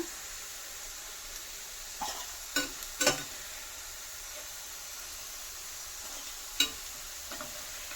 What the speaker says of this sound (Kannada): ಸ್ವಲ್ಪ ಗೋಲ್ಡನ್ ಬ್ರೌನ್ ಬರೋವರೆಗೂ ಫ್ರೈ ಮಾಡ್ಕೋಬೇಕು